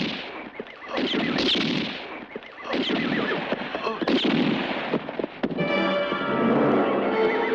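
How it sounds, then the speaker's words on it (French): Horses bolting in a desert western film scene, with loud whinnies and hooves mixed among gunfire and shouting voices, a dense chaotic action sequence. "Attention, vous faites sauver les chevaux"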